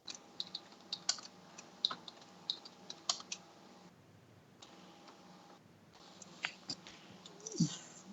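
Keys clatter in steady bursts of typing on a computer keyboard, fairly close and moderately loud, with a brief pause midway and a low steady hum underneath.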